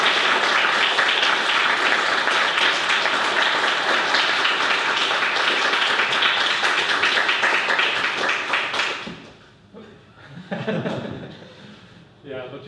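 An audience at a hackathon gives a long burst of loud, dense clapping that fades out after about nine seconds, followed by a few scattered claps and a speaker's voice.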